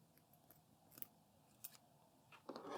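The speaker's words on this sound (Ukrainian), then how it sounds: "Треба було взяти нормальні ножиці. Гостріші." Scissors snip the loose end of a tied rope knot, giving a few faint, sharp cuts spread across the quiet stretch. A louder, rougher crunching cut comes at the end.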